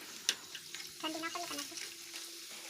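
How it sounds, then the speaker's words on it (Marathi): Papad, fryums and potato chips deep-fry in oil, giving a quiet, bubbly sizzle with scattered pops and clinks, faint and close, with a voice briefly murmuring. "पापड, नड्डे, आपले आलू चिप्स तळून घ्या"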